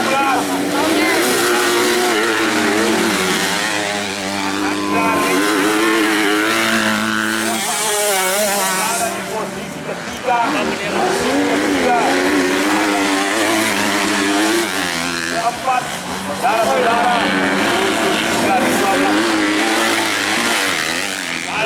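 Motocross motorcycles in the special engine 250 cc class race at a regional championship grasstrack circuit, engines revving and droning loudly and continuously, with a commentator's voice running over the noise throughout.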